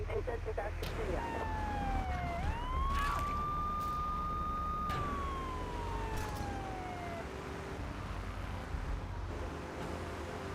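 A police siren wails in the GTA 3 video game, rising and falling in a single sweep over a low engine-like drone, at moderate level amid other game sounds.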